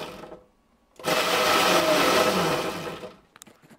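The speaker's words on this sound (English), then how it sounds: "if I push the throttle, the motor spins" Electric motor of a Razor Ground Force go-kart converted to 36 volts and 800 watts, spinning up under throttle: a loud, steady whirring whine that holds for about two seconds, then winds down to quiet, up close with no talk.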